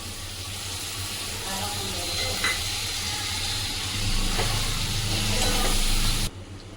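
Chopped ginger goes into a pan of frying onions, raising a continuous hissing sizzle that swells a little toward the end before cutting off abruptly.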